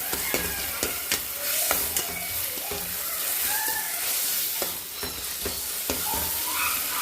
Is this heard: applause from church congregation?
no